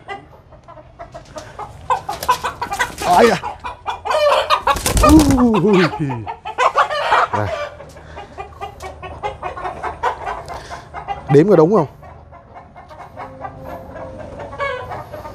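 Clucks and squawks from a nine-spur chicken being caught and picked up by hand, several loud bursts of alarmed cackling close by, with someone talking in between.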